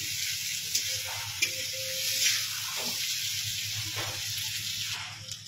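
Potatoes fry in a pan for a greens and shrimp dish, giving a soft, steady sizzle with occasional stirring scrapes and a low background hum.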